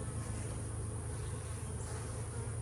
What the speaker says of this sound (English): I got bees all over my camera